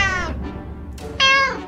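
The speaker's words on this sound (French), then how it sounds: "Le chat." A cat meows twice in the survival video game 60 Seconds. Each meow is loud, close and tonal, separated by a short pause.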